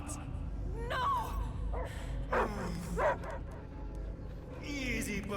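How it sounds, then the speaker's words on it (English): In the video game Marvel's Guardians of the Galaxy, a dog gives a few sharp yips and barks with whimpering in between, close and loud over a low game rumble, with voices speaking alongside. "I hear only barking."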